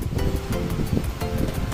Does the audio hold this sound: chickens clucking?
no